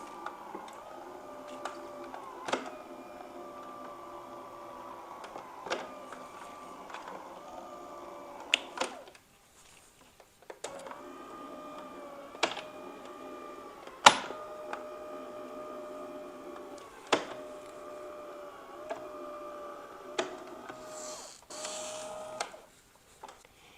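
Electric die cutting machine for card making runs with a steady mechanical whir and faint ticking, in several stretches separated by brief pauses and sharp clicks, fairly close and alone without talk.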